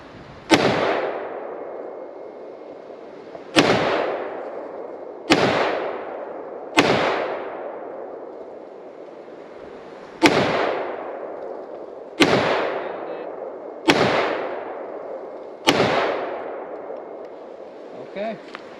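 Eight sharp, heavy rifle shots from an LMT L129A1 (LM308 MWS AR-10 style) crack out on an outdoor range, spaced a second or two apart, each followed by a ringing decay.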